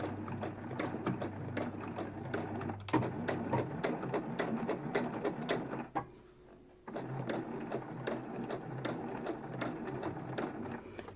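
Sewing machine stitching the folded-over side of fabric for a homemade face mask, running in steady rapid needle bursts with a brief pause near the middle, close and alone without talk.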